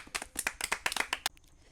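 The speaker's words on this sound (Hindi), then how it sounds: "ताली बजाइए इसके लिए" Students in a classroom quiz clap for a right answer: about a dozen quick, uneven claps over a second, close and crisp, then the room falls quiet.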